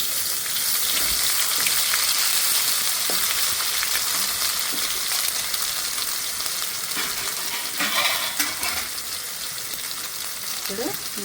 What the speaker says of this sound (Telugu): ఉల్లిగడ్డ ఫ్రై అయింది. కొంచెము అల్లం వెల్లుల్లి పేస్ట్ వేసుకుంటా.